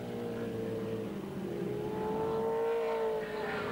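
Group C touring cars racing in the 1981 City of Melbourne Touring Car Trophy, an Australian Grand Prix support race, with a steady loud engine drone rising in pitch as the cars accelerate down a long straight.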